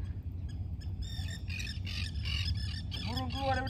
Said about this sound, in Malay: Burung keluar daripada air.